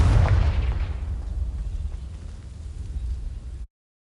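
Fiery spell blast from the Confringo fire-blasting spell in a Hogwarts video game, a sharp loud burst that rolls into a low rumbling boom and slowly fades over a few seconds, with no speech.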